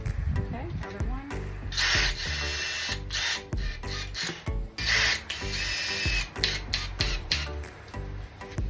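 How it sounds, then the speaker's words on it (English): Power drill driving and countersinking screws into a cat house catio panel, with repeated short whirring bursts and pauses, close and loud, mixed with rubbing and handling noises. "I like to countersink it just a little bit."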